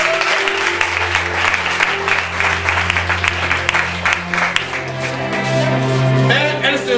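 A church congregation at a Sunday service claps steadily and loudly for several seconds, the dense applause carrying over sustained keyboard or organ chords and a low bass drone.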